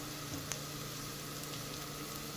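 Mutton coated in freshly pounded ginger-garlic paste and turmeric fries in a pan for a mutton curry, giving a steady, even sizzle with light crackle and no talk.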